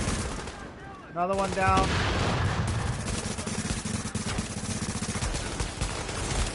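Gunfire in the shooter video game The Division, with shots and bursts over a steady loud bed of game noise while a player talks excitedly throughout.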